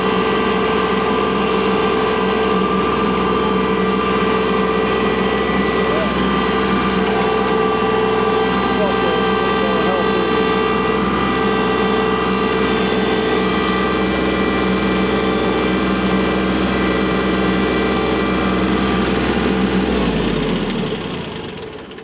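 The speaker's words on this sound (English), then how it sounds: "Tractor's working though." A farm tractor engine runs steadily and loudly for about twenty seconds, a constant droning rumble with an even idle-like tone, before cutting off abruptly near the end.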